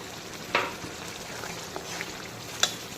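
A paste of cumin, coriander and dried red chilli frying in a pan for a chicken curry, a soft continuous sizzle with a couple of sharp spatters and light clicks, fairly quiet and without talk.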